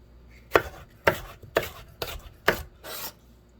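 A knife slices through a pepper on a cutting board in six quick, evenly spaced cuts, each a crisp close thunk with a short scraping rasp.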